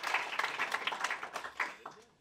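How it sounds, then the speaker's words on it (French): An audience applauds at an evening sports leadership talk, a short burst of clapping that swells and then fades out. "Et les applaudissements sont pour toi."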